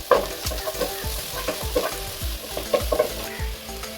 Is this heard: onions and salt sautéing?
yes